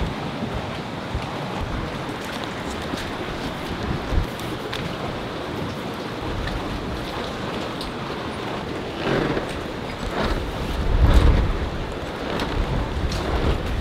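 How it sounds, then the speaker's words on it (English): Wind gusting over the water around a sailboat anchored in the Bahamas, a continuous rushing roar that swells in louder gusts toward the end, with no voices. "as you can tell, it's kind of windy"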